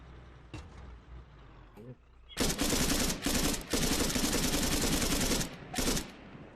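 Bursts of automatic gunfire in the military shooter game Arma 3 during a King of the Hill match, loud sustained volleys with brief gaps after a few quieter shots, a voice faintly under it at the start.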